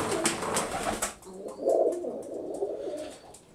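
Pigeons in a loft's young bird section giving low cooing calls, fairly close, with a few sharp clicks and rustles at the start, no talk.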